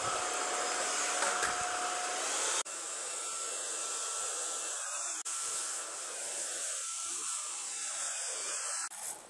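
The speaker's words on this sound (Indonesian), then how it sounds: "Kak Zah dah habis dah vacuum dekat tangga." A Corvan K9 Pro cordless vacuum cleaner runs steadily at close range, a loud continuous high-pitched whine with brief dips and shifts as it works over floor and stairs.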